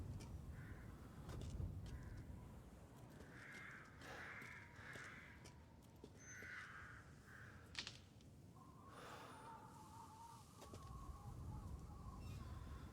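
Small squeaky chirps and bird-like calls ring out in a quiet video game village, repeating irregularly at moderate distance over a soft ambient background.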